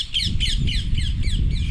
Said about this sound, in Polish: To są te zielone ptaszki, które widzieliśmy, aczkolwiek mam podejrzenia, że to mogą być albo żołny, albo papugi.